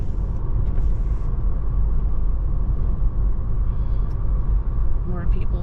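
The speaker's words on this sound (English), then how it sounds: "there's still a few cars and stuff coming over here" Steady traffic rumble from cars passing on a road in Clearwater, Florida, a continuous broadband roar with a vehicle drone throughout.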